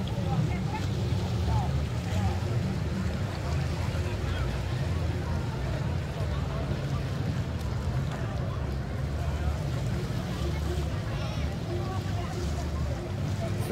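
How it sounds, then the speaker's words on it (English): A water taxi boat cruises the river at Laughlin, Nevada, its engine a steady low rumble under continuous wind noise, with faint voices in the background. "One of the water taxis."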